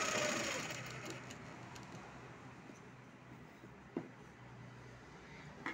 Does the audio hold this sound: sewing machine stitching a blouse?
yes